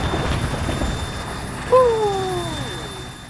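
A helicopter in the Arma 3 military game drones as a steady broadband rumble, with a gliding tonal whine rising over it about halfway through; no voices are heard.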